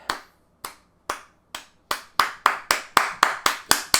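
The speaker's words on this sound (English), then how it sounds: "round of a fucking applause for this goddamn chapter" A lone host claps about a dozen times, the sharp hand claps starting sparse and slow, then quickening and growing louder into a steady applause rhythm.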